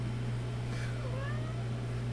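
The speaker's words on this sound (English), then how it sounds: "Sorry, my cat." A house cat gives a single short meow over a steady low electrical hum, quick and fairly close.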